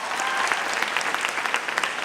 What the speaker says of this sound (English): So can we please have a big round of applause?